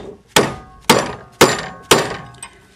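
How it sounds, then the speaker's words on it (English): A rawhide hammer strikes a wire bracelet on a ring mandrel, landing four sharp, evenly spaced knocks close up. A fainter fifth tap follows, with brief quiet between the blows. "I'm going to hit this with my rawhide hammer."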